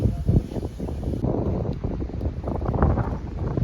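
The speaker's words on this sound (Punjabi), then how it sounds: "ਠੰਡੀ ਹਵਾ ਚੱਲਣ ਲੱਗ ਪਈ ਆ" Steady cold mountain wind in Himachal buffets the microphone in a continuous low rumble with gusty surges, loud and close throughout, with no voices.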